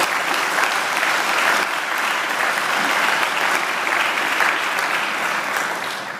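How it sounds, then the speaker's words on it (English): Sustained round of applause from a large audience at a university graduation ceremony, an even wash of many hands clapping with no talk, easing slightly at the very end. "Let's give her another great round of applause."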